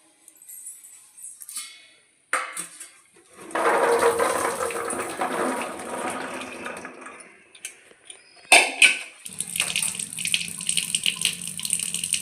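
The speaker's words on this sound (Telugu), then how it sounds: "నీళ్ళు వంచేసుకుందామండి" Water pours off boiled chickpeas into a sink, a few short splashes building into a steady rushing drain for several seconds, then a brief second gush with clatters before it trails off.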